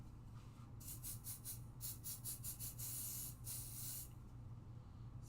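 Pixie spray hisses from a can in a series of short bursts and a few longer sprays, near and fairly quiet, over a low background hum.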